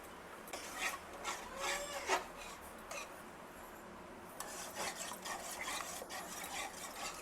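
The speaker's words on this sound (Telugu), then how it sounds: "పచ్చిమిర్చి కూడా వేసుకొని కంటిన్యూస్గా గుజ్జు దగ్గర పడేదా కలుపుతూనే ఉండాలన్నమాట" A spoon stirs thick tamarind pulp with green chillies in a pan for pulihora, making a steady scraping, rasping rub that continues throughout with rhythmic strokes, close and moderately quiet.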